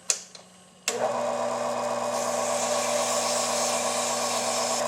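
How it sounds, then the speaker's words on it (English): A turned pen spins on a wood lathe while being sanded with 80 grit sandpaper: a few knocks, then a steady loud motor whine with a broad hissing rasp that continues alone. "But first I need to sand with my 80 grit sandpaper."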